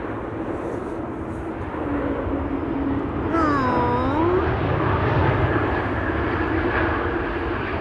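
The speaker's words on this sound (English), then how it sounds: "E2 Embraer 195 arriving from Gdansk." An Embraer 195 E2 jet airliner arriving at Amsterdam Schiphol from Gdansk: a steady, loud engine roar fills the clip, with a rising and falling turbine whine swelling in the middle before easing back into the broad rumble.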